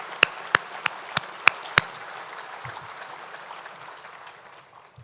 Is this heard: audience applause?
yes